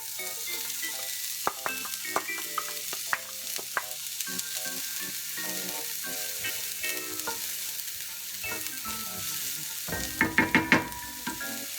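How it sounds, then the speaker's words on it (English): Onions sautéing in warm olive oil in a pan, a steady soft sizzle with scattered clinks and scrapes of a utensil, and a quick burst of stirring knocks near the end. "we're going to add our onions and start to saute these for about 5 minutes"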